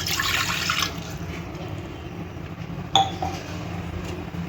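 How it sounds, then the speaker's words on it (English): A glass of water is poured into a pressure cooker in a home kitchen: a short, close splashing pour, then quiet and a single metallic clink. "Add a glass of water to your pressure cooker."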